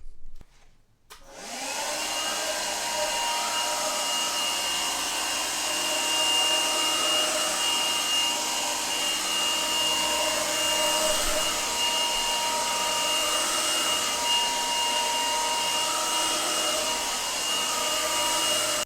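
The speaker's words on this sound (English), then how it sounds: "Now I'm going to try something a little bit more difficult for this vacuum and put powder on the floor." A Shark SV1106 cordless stick vacuum runs at full power sucking powder off a floor, a steady loud high-pitched whine with a broad airy roar that starts after a second of near silence and holds unbroken to the end.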